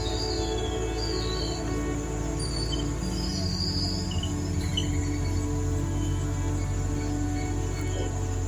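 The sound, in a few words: mole cricket males singing at sunset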